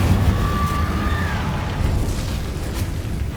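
A fire spell blast in the Hogwarts Legacy game hits as a loud, dense burst with a whistling tone sweeping through the first second, then a sustained roaring crackle that holds steady to the end with no talk.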